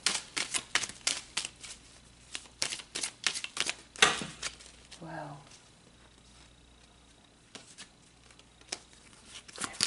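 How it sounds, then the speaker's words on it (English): Tarot cards being shuffled and drawn during a love reading, heard as a run of quick, crisp riffling flicks and taps close by, then a quieter stretch with soft handling and a brief murmur before more card flicks return. "let's pull some more cards here"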